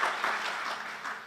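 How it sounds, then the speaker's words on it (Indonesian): A church congregation at a worship service claps in a short burst of applause, many hands at once, brisk and fairly loud, lasting only a moment. "Beri tepuk tangan dulu buat Tuhan Yesus"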